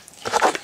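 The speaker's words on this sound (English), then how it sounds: "so let's give Wolfie his treat" A dog crunches and chews a treat in a home kitchen, giving a short burst of crisp bites close by with no talk over it.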